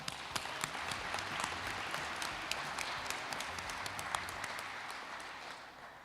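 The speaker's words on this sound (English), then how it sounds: "Give them a round of applause, please." Audience at a Chamber of Commerce awards evening applauds the event organizers, a sustained round of clapping from a sizeable crowd with sharp individual claps standing out near the listener, fading a little at the end.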